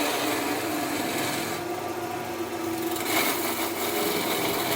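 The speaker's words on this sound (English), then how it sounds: "anchor, bevel, cut, and just keep lifting to put that taper in" A skew chisel peels a taper into spinning wood on a lathe, making a steady, close scraping hiss with a continuous motor drone underneath, rising a little brighter toward the end.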